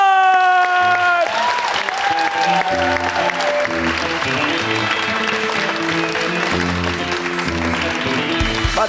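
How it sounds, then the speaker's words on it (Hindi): A studio audience applauds a guest arriving on a talk show, a loud, sustained wash of clapping that runs the whole length, with music underneath. "दोबारा आपने जोर से तालियां बजानी है"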